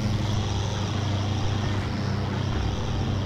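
A propeller-driven airplane in the World War II game Forgotten Hope 2, Siege of Tobruk map, drones steadily with a loud, continuous engine hum and no break over the few seconds.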